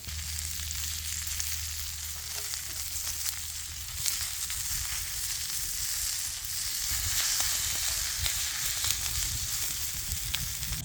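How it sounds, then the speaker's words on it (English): Meat browns with garlic in a hot pan before going into a slow cooker, giving a steady, close sizzle and frying crackle that runs unbroken throughout, with occasional stirring scrapes. "Browning before we put it in the slow cooker."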